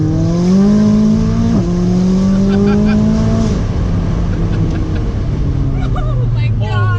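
McLaren sports car accelerating hard at full throttle, a loud close engine note rising steadily in pitch, dropping briefly at a gear shift, then climbing again, with people talking over it.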